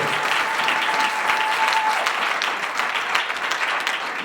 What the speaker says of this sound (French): Clap for the King of Kings.